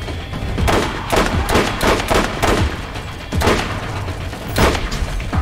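Rapid bursts of gunfire in the video game Borderlands crackle close and loud, overlapping shots and thuds coming in several clusters over dense game noise.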